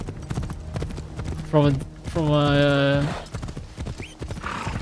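Horse hooves clip-clopping in a video game, a rhythmic clatter running under loud, steady talk, with a whinny-like tone in the middle.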